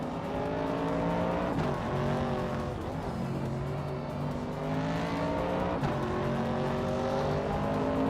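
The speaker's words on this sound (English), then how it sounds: "Lothar is driving a 1973 Porsche 911 RS, a classic with a reputation for agility" A 1973 Porsche 911 RS races at speed, its engine note droning steadily with rising and falling pitch through gear changes, loud and continuous throughout with no pauses.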